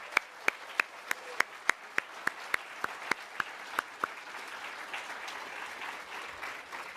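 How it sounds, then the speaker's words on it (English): Audience at a Canadian children's book awards ceremony applauding, beginning as a string of crisp, evenly spaced individual claps that fade into a soft, distant wash of clapping from the room. "So a big round of applause for them."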